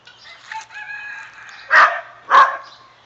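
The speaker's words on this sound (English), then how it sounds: "I just heard a chicken crow." A rooster crows nearby, its call rising then breaking into two loud bursts toward the end, with no talking.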